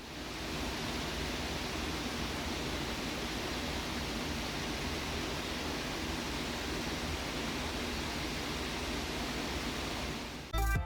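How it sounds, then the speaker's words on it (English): A six-GPU crypto mining rig with a mix of high-end graphics cards runs steadily, its fans giving off a loud, even, broadband whoosh heard close up and alone, with no pauses or changes. "Now checking out the noise, it averages around 70 decibels right next to the mining rig."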